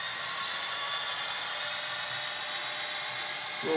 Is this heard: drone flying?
yes